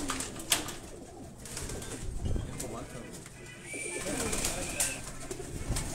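Pigeons coo steadily throughout a racing pigeon loft, a soft continuous murmur with occasional wing flutters, while someone speaks briefly over them.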